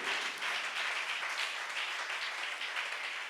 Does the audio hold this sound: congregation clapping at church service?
yes